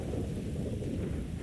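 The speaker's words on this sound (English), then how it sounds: "If you wake, listen to the rain." Steady rain falling, a dense continuous hiss with a low rumbling undertone, even and unbroken throughout, with no voices or other sounds.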